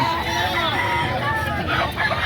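A rooster crows nearby against a noisy, busy background at a Saturday chicken market in Lipa, Batangas.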